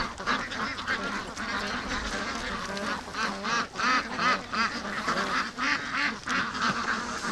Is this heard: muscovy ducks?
yes